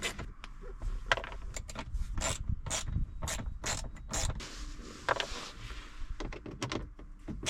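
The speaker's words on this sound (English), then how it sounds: "So I'm going to start removing these fasteners." Plastic dash trim fasteners being pried out inside a car during a radio install, giving close, irregular clicks, snaps and rattling mechanical ticks against a faint background hiss.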